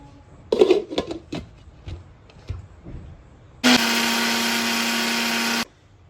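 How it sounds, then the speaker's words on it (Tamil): A few clatters and knocks, then a loud high-pitched motor whine runs steadily for about two seconds before cutting off, as a mixer grinder jar grinds spice powder. "மிக்ஸி ஜாரில் அரைச்சி போகிறோம்."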